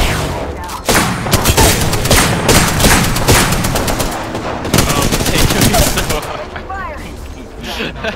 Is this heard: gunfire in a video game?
yes